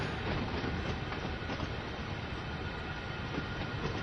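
Train wagons rolling along the track in the Train Sim World 3 game on the CN Oakville Subdivision, a dense continuous rumble with steady wheel noise throughout and no gaps.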